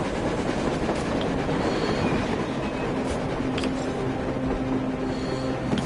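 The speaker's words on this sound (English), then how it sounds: "A train! A damn train on the surface!" A train rumbling along rails in the post-apocalyptic video game Metro Exodus, a steady dense roar with faint rhythmic clatter and occasional high metallic squeals, continuous and fairly loud throughout without talk.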